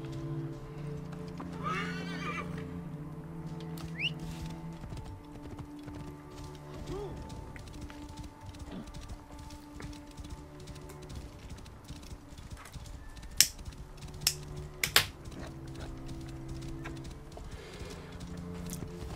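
Horse neighing and hooves clip-clopping in Assassin's Creed Origins, steady hoofbeats under game music and ambience, with a few sharp louder hits near the end.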